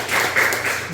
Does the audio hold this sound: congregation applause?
yes